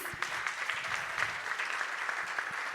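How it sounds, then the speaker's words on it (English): A crowd applauds startup presenters on stage at a startup showcase, a steady wash of many hands clapping that holds evenly throughout at moderate distance. "I think these guys deserve another round of applause"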